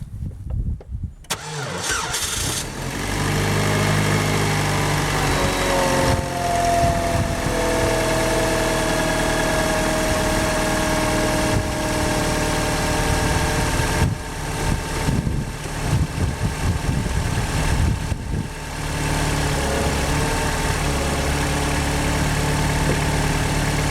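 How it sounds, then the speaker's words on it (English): A car engine cranks and catches on a cold start at -2 degrees, then settles into a steady, loud idle with a faint rising whine, running on evenly for a long stretch. "Yeah, listen to that engine."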